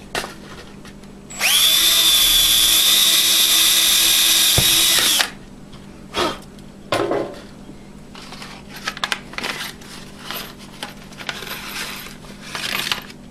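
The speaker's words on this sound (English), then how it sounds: "Get out my trusty drill." An electric drill drives a screw into an electronic fly swatter with a loose head, giving one loud, steady whir of about four seconds, followed by scattered clicks and handling knocks.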